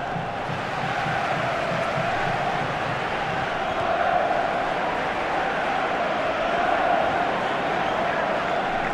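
Football supporters roar throughout a Copa Sudamericana 2019 match between Argentinos Juniors and Estudiantes, a steady dense crowd din in the stadium with faint swells, no clear applause bursts.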